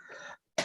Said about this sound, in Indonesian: Maaf, batuknya dikit.